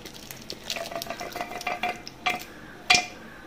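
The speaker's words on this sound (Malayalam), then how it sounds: "നമ്മുടെ കപ്പയ്ക്കകത്തേക്ക് നമ്മുടെ എല്ലു ഇറച്ചി എല്ലാം കൂടെ ഇട്ട് കൊടുക്കാം." Bone-in meat being tipped into a pot of cooked tapioca for a Kerala-style biryani, giving a series of soft stirring scrapes and thuds with a sharper clatter of spoon against pot near the end.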